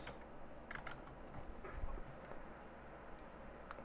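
Quiet tapping of keys on a computer keyboard while entering text, a handful of light irregular clicks in short bursts over a low hum, no talking.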